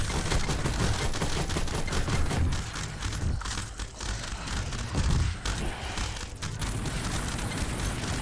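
Dense, continuous gunfire from a VR co-op shooter game, Gunheart, with overlapping rapid shots and bursts sustained loudly throughout, no talk.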